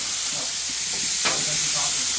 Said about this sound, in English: Hear that loud sizzle?